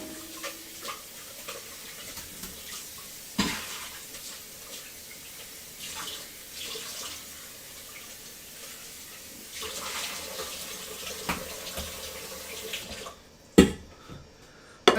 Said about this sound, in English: So I'm just going to wash out this pot real quick